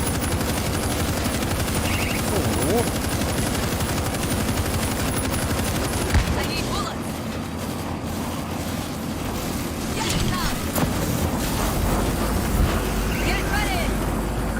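Rapid gunfire in the video game World War Z rattles in long continuous bursts, loud and dense, with occasional louder shots breaking through the steady barrage.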